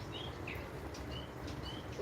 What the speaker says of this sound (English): The sparrows are chittering.